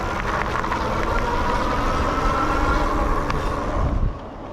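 Wide tires of a Rad Power Bikes RadRover 5 e-bike roll across smooth parking lot pavement, giving a steady, close whirring hiss that holds evenly for about four seconds before dropping away.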